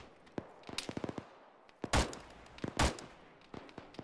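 Bursts of gunfire in the military shooter Arma during a ShackTac squad firefight, with scattered single shots and two heavy, louder volleys in quick succession, rattling at mid distance with no talk.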